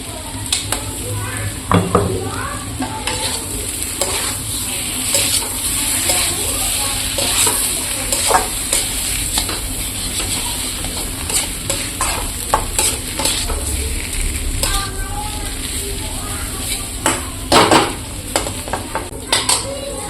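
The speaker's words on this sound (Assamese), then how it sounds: "এইখিনি ভাজি ল'লোঁ ভেন্দি" Okra stir-fries with ginger and garlic in a hot pan, a steady close sizzle punctuated by repeated clinks and scrapes of a utensil against the metal, with occasional louder stirring bursts.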